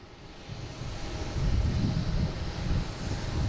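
A JetBlue airliner arriving at Boston Logan International Airport, its engine roar a broad low rumble that swells after the first second and holds steady and fairly loud throughout, with no talking.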